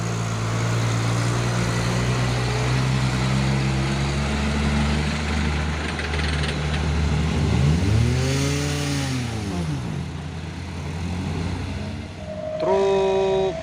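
An orange Fuso 6x2 truck's engine idles and revs, rising and falling in pitch with rumbling surges, ending with a short horn-like tone near the finish.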